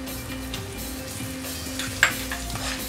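Banana foster glaze seasoned with cinnamon and nutmeg sizzles steadily in a pan while being stirred, with a sharp scrape or clink near the two-second mark.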